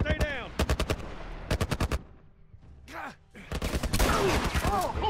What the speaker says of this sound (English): Some kind of military turret.